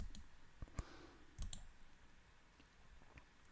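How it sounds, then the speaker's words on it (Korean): Faint right mouse-button clicks, a few quick light taps spread out over a quiet background hiss. "오른쪽 마우스 클릭"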